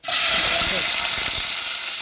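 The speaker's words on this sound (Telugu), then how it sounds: "అందులో ఇప్పుడు ఆయిల్ వేడి అయినాక ఈ బెల్ పెప్పర్" Bell pepper pieces dropped into hot oil for a mutton dish, letting out a loud, sudden sizzle that settles into a steady frying hiss.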